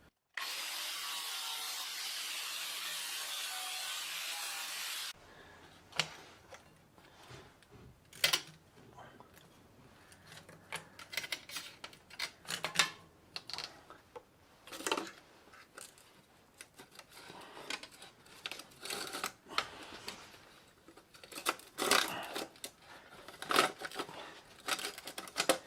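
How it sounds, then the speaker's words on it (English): A tool cuts through the chain of a Koga Miyata bicycle, with irregular sharp clicks, grinding scrapes and clanks spread across the clip, close and fairly quiet, after a short opening burst of broadband noise. "So I have decided to cut the chain at more than one"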